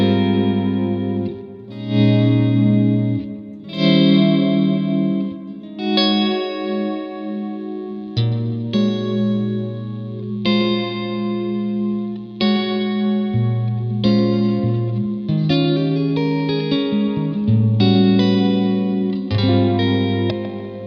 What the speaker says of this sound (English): So let's just hear kind of a basic reverb sound from this.